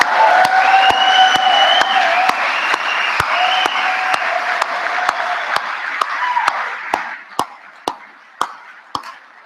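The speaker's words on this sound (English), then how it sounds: "Let's give him another round of applause." A convention audience applauds speaker Danny, with dense clapping and a few tonal cheers under a run of sharp, evenly spaced claps that keep going as the crowd noise fades, leaving isolated single claps at the end.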